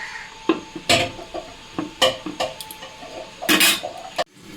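A lid goes onto a cooking pot on a gas flame, a series of close metallic clanks and clinks, one loud burst near the end followed by quiet.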